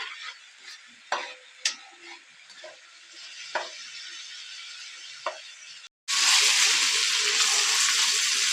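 Chicken kheema cooking with onion and tomato paste, stirred in the pan with a steady sizzle and a few spoon clinks, then a louder, denser frying hiss after a brief gap; no talking.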